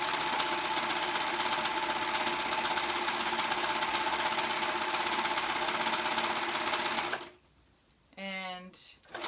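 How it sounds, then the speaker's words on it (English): A sewing machine runs steadily, stitching the side seams of a men's tee shirt, a loud continuous mechanical whir lasting about seven seconds before stopping abruptly, followed by a brief quieter sound. "I'm gonna go ahead and sew those sides together"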